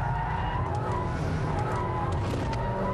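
VW Golf GT being flicked through a corner so the rear slides out, engine droning steadily under a drawn-out tyre squeal that rises and holds, heard from inside the car.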